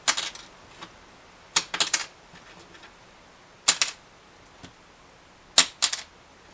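A plastic guitar saddle dropped onto a hard surface: four close, sharp bursts of light clicking bounces, spaced a couple of seconds apart, with no talking.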